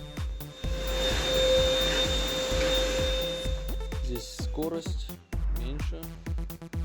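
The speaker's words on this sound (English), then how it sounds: "the vacuum cleaner now works in normal mode" A Tefal TY9152WO vacuum cleaner motor, running normally after repair, drones steadily with a high whine, then winds down as a person starts talking close by.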